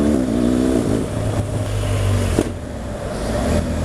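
A motorcycle fitted with a shift assist quick shifter revs loudly and steadily up close, its engine note briefly interrupted by a quick gear change partway through, with no talk.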